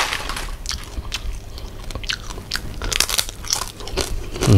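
Loud, close crunching bites and chewing of crispy noodles and crispy pork in a spicy Thai fresh-shrimp salad, a steady run of sharp crackly crunches with wet mastication between them.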